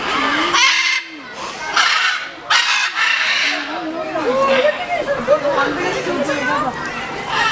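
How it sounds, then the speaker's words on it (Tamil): Harsh, raucous macaw squawks, including red-and-blue macaws, ring out repeatedly close by at Chennai's Arignar Anna Zoological Park, overlapping with people talking and chattering throughout. "பக்கத்தில் இருக்க பஞ்சவர்ண கிளிங்க ஃபுல்லாக சவுண்டு போட்டுட்டு இருந்துச்சுங்க"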